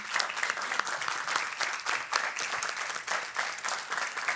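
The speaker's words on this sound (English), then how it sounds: "let's give them a round of applause" Honor band students receive a burst of steady applause from the audience at a school board of education meeting, with dense clapping from many hands filling the room.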